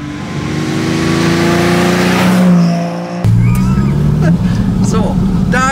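A 1959 Ferrari 250 GT Pininfarina Coupé engine revs hard and accelerates, loud and close, with a steady tonal roar rising in pitch, then a second surge after a brief cut.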